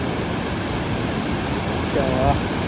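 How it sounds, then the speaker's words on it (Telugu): Water gushes out under strong pressure during a trip to Goa, forming a steady, loud, hissing rush with a brief voice near the end. "వాటర్ ప్రెషర్ చూడు ఎట్లున్నదో."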